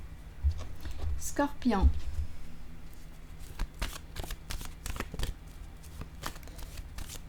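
Tarot cards being shuffled, laid down and handled on a table, a short riffling burst followed by scattered soft taps and slides, close and quiet, with a voice speaking briefly.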